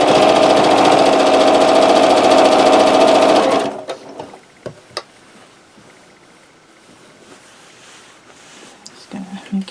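A sewing machine stitches a 9-patch quilt in a loud, fast, steady whir for a few seconds, then stops, leaving soft handling clicks and rustles of fabric.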